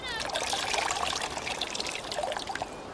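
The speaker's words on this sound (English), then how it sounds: "When I take it out of the water, it's quite heavy. But if I give it a squeeze," Water squeezed from a soaked sponge trickles and dribbles steadily for a few seconds, close and soft, with a light splashing texture throughout.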